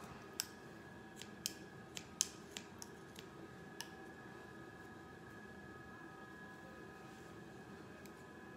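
Scissors snip through mop strands being cut for a DIY Christmas gnome, a scattering of sharp, close clicks in the first few seconds over a quiet room, then mostly stillness with one last faint snip.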